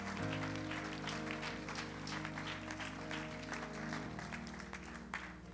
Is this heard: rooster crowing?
no